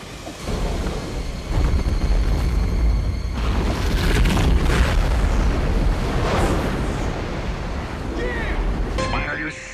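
A shark is blown up in the 1999 film Deep Blue Sea: a massive, sustained explosion with a roaring, rumbling body that churns on for several seconds like crashing water.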